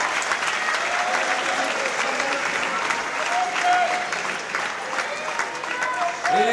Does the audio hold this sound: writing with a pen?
no